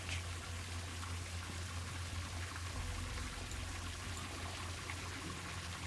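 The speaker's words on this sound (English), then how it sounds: "Ah, para que suelte agua." Water pours continuously from a broken, brittle pipe in the video game Trüberbrook, a dense, even splashing stream that holds at a moderate level for several seconds with no voices over it.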